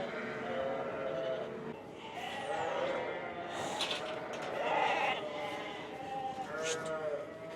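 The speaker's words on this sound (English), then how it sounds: "Nice lambs." Lambs bleat repeatedly across the stretch, several calls rising at varied distances over steady outdoor noise, with a person talking now and then among them.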